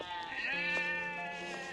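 A sheep bleats in a field beside a river, one long quavering call close and fairly clear, with faint outdoor background.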